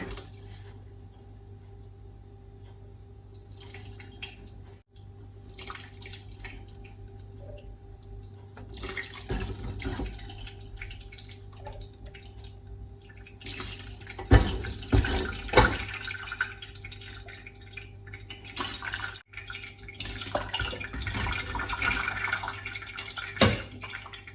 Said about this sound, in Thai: กรองน้ำปลาร้าเลยค่ะ